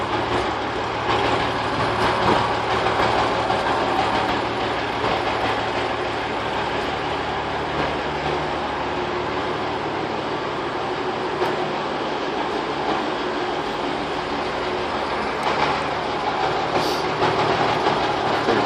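A 1957 REO F-20 truck engine runs on its first start in 20 years: a loud, dense, rattling idle with clattering mechanical noise, sustained and steady throughout with no speech.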